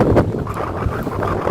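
Strong wind roars across the open water at Manimutharu Dam and whips up waves, a steady, loud rumbling gust buffeting the microphone with no voices.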